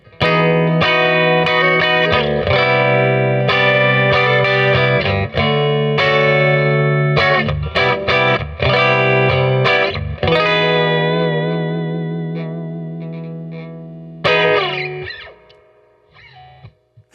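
Clean electric guitar on the bridge pickup of a Fender Japan Jazzmaster, playing chords and single notes with a bright, twangy edge, strummed steadily, then a final chord ringing out and fading.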